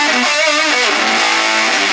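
A Red Special electric guitar, a production prototype build, played through a booster for heavy distortion: a dense, saturated sustained tone with shifting bent notes, loud and close throughout, with no voices.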